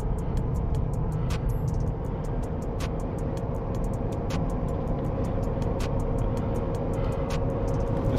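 A 2024 Shelby Super Baja F250 pickup on 37-inch tires cruising at highway speed, its steady broadband engine and road drone constant and loud throughout, with faint regular ticking above.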